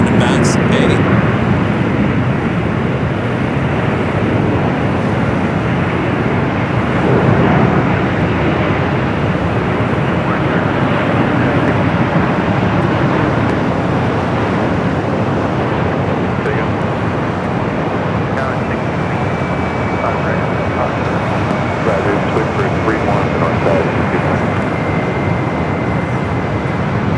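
A Southwest Airlines Boeing 737 MAX 8 arrives at LAX with a broad, steady jet roar that runs throughout, and a voice talks over it.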